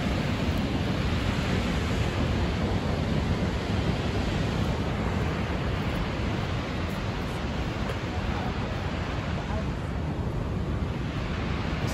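Snoqualmie Falls waterfall gives a continuous, dense roar of rushing water, steady and fairly loud throughout, with no pauses and no talk heard.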